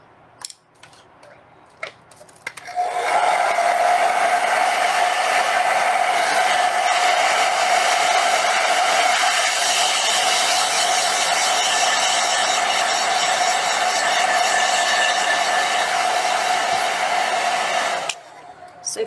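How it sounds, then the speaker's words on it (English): Blow dryer drying watercolor paint on a peacock feather painting, a steady loud whirring hum running for about fifteen seconds after a few faint clicks, then switched off. "and again, another go at the blow dryer."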